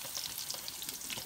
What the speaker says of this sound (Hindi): पहले हमने प्याज डाला